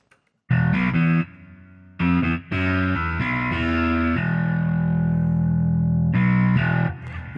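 Roundwound electric bass sample library preset with distortion, EQ, compressor, flanger and reverb: fuzzy, swirling bass notes in short phrases with brief gaps, then a long sustained tone, played alone.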